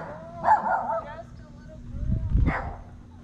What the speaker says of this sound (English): Our dogs bark all the time.